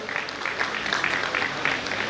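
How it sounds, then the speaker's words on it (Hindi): Audience applause at a tribute event honouring a singer, a continuous, moderately distant crowd clapping with a lively flutter throughout. "जोरदार तालियां बजनी चाहिए"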